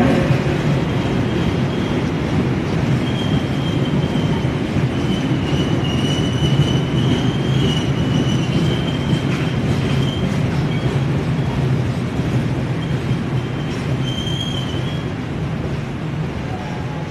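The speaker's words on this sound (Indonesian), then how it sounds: "memasuki jalur 4 kereta api" A Purwojaya passenger train rolls onto track 4 at Jatinegara station, a loud continuous rumble of railcars with wheel squeal and steady clatter, filling the whole stretch without a break.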